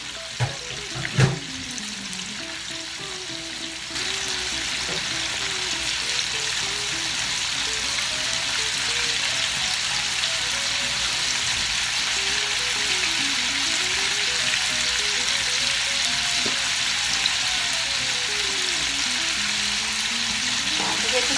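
Chicken strips with bits of breading fry in hot oil, giving a loud, continuous close-up sizzle that grows denser after a few seconds, with a brief clatter near the start.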